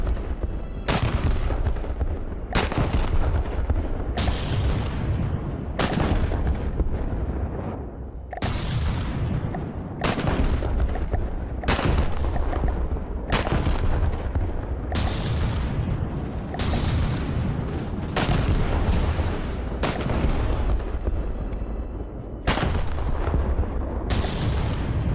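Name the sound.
rapid firing weapon in video game Wreckfest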